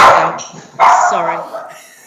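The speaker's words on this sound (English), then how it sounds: "Sorry, my dog just went off its nut." A pet dog barks sharply twice at home, loud and close, each bark ringing out then trailing off, with no talk over it.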